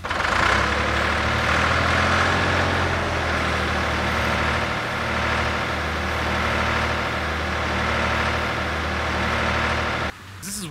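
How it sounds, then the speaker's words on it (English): A small tractor's engine idles steadily nearby, a continuous low rumble with a faint rhythmic pulse that cuts off abruptly near the end. "that is a nice tractor"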